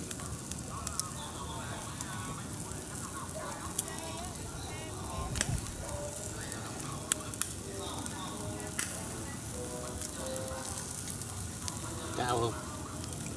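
Rats grill over an open fire outdoors, giving a steady close sizzle and crackle with occasional sharp pops, while people talk quietly in the background.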